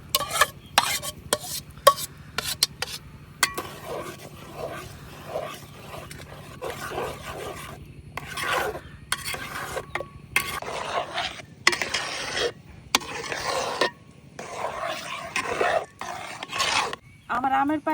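Mango juice poured and stirred into mango rice pudding in a pot, with repeated scraping and stirring strokes near at hand over a steady low hum, in bursts and pauses.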